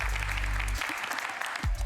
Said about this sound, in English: A big applause for Saila.